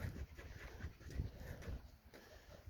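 A dog pants quickly and rhythmically close by, a soft quiet huffing that continues steadily.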